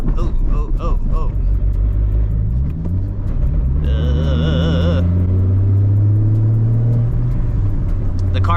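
A Nissan 370Z running on stock catalytic converters gives a mellow, steady low engine rumble and drone, with voices talking over it near the start.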